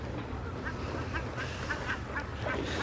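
Ducks quack repeatedly at a bird park, a run of short, nasal calls at close to middle distance over a noisy outdoor background.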